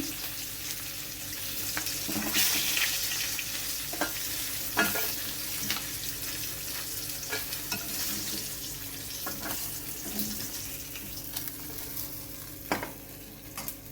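Pieces of rohu fish frying in oil in a pan, a continuous close sizzle broken by repeated scraping stirs and light utensil knocks, with no one speaking.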